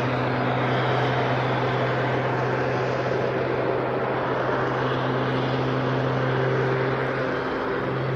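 A twin-engine jet aircraft burning Jet A1 holds a hovering display manoeuvre at an air festival, giving a steady, loud, droning roar with sustained engine tones that carries on unbroken.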